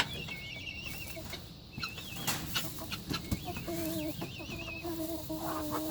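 Backyard chickens, including barred rocks, cluck and murmur inside a wooden coop at night, with a rooster-like call and rising warbling tones repeating over steady rustling and close movement.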